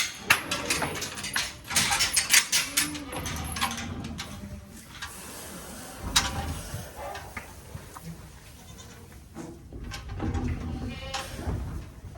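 Goat kids and their mothers bleat repeatedly in a barn with the doors shut, several overlapping calls of varying pitch over a steady background hum.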